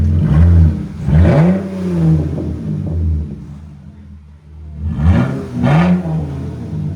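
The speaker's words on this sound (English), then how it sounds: "we're gonna start with straight pipe. That's straight pipe, no muffler, nothing. Give me gas." A RAM 3.6L V6 engine with a straight pipe exhaust and no muffler revs hard twice with a loud, raspy roar, falling back to a rough idle rumble between the bursts.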